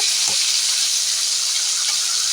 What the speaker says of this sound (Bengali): মাছের তেলটাতেই দিয়ে দেব ওই ঝিঙেগুলো একটু হলুদ মাখিয়ে নিয়েছি এটাকে পুরো ভেজে নেব